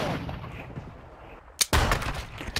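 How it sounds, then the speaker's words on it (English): Revolver gunshot sniping in a shooter game: two sharp, loud cracks in quick succession, the second followed by a ringing burst of noise, over a low ambient bed with no talk. "Did I just get sniped with a fucking revolver?"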